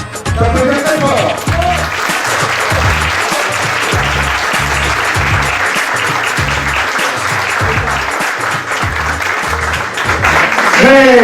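Loud, sustained applause from the crowd at a Fourchette d'or 2018 evening at Massala Lounge plays over a pulsing rhythmic music beat, with a voice briefly heard at the start and end.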